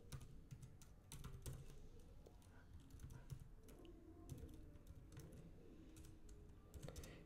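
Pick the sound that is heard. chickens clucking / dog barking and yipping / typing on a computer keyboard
typing on a computer keyboard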